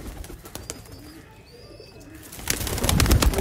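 Pigeons kept as racing or flying birds coo and call in a loft, soft repeated coos near the microphone, followed by a louder burst of rustling and activity toward the end.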